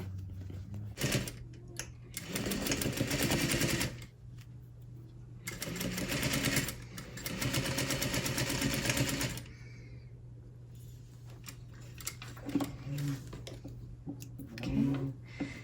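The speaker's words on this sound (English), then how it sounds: "I'm going to sew through all those layers right here" A sewing machine stitches through the thick pleated layers of a tailored waistband curtain. It runs in two long, steady rattling bursts over a constant motor hum, then falls to quieter, intermittent stitching with a few soft knocks.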